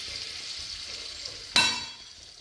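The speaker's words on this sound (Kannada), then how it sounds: "ಈ ಬಟರ್ ಮೆಲ್ಟ್ ಆಗುತ್ತೆ." Butter melts in a hot pan while cooking paneer pulao, giving a soft, steady sizzle. A sharp metallic clink and a brief louder burst of frying come partway through.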